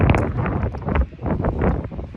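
Wind buffets a microphone outdoors on a dark night by a road, a steady rough rumble with gusts that swell and drop throughout.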